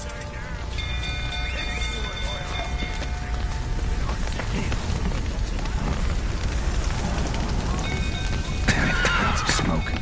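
Horses neigh and whinny in a burning stable in The Witcher video game, several calls rising over a steady roar of fire and clatter, with shouting voices in the mix.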